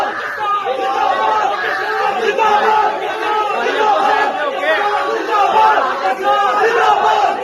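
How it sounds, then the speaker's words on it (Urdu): A crowd at a district court in Pakistan raises emotional Pakistan Zindabad slogans, many voices shouting together in a dense, rhythmic chant that holds steady and fairly loud throughout. "انہوں نے پاکستان زندہ باد کے نعرے لگائے"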